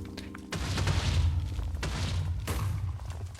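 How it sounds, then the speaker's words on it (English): Explosions in the Minecraft game hit as deep booming thuds. A heavy blast lands after a brief lull, then rumbling continues with another burst, loud and sustained throughout. "So many explosions."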